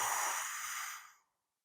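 A slow, breathy exhale during Pilates breathing, close and soft, a steady airy rush that fades out into silence after about a second.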